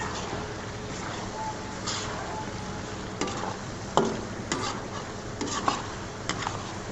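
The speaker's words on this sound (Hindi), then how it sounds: "अब इसमें थोड़ा सा गरम मसाला डाल के इसको मिक्स कर देंगे" Beef karahi sizzling in a pan as garam masala is stirred in, with a steady background sizzle and several sharp scrapes and clinks of the spoon against the pot.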